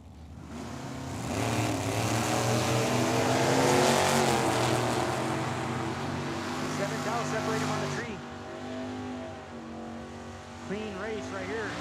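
Ford Mustang drag cars running at Tucson Dragway, engines roaring and revving with rising and falling pitch, loud and near for several seconds before easing off, under continuous announcer talk.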